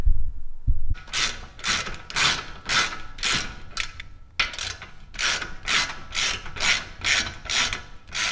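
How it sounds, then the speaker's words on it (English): Torque wrench ratcheting on the brake caliper bolts of a BMW X5M, with rhythmic bursts of clicking in two runs, close and clear, a short pause between them. "Tighten it, 70 foot-pounds of torque on these bolts."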